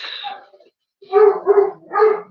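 Dogs barking at home, heard as three quick, mid-pitched barks in a row after a moment of quiet, fairly close and loud, with a faint, soft vocal-like sound just before.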